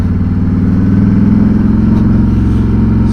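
A Harley-Davidson Fat Boy styled as a light-touring Road King rumbles loudly and steadily at close range while riding, its deep V-twin pulse continuous throughout with no speech.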